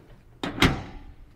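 Door of a 1979 Volkswagen Fusca 1300L car shutting with two quick, solid metallic thunks, close up and otherwise quiet.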